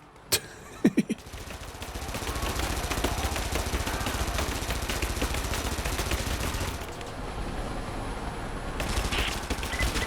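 Sustained rapid gunfire in the video game Rise of the Tomb Raider, a dense unbroken rattle of shots after a couple of sharp opening cracks, loud and steady throughout.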